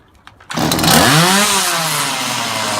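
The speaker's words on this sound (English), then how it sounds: "Pull the cord, hopefully it'll fire." A Stihl MS 180 chainsaw, just started after a cord pull with choke set and carburettor needing adjustment, fires up abruptly and revs high before settling into a loud, close, steady buzzing idle.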